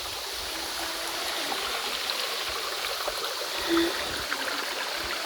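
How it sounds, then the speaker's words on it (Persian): Water tumbling downstream of a forest waterfall in Mazandaran forms a steady, moderate rush that holds even across the whole stretch, with no voices over it. "اینم پایین دست آبشاره"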